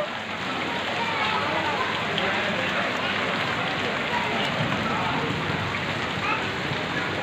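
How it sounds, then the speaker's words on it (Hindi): Steady rain falls outdoors on a village street in Pakistan, a dense continuous hiss with no breaks across the whole stretch, and faint voices may sit underneath it. "तो हसन भी खेल रहा है, कभी दिल कर रहा है बारिश में नहाने को।"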